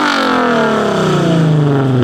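A car with a Valvetronic exhaust revs hard and loud, a deep droning exhaust note with steady rising harmonics, close by and continuous for about two seconds.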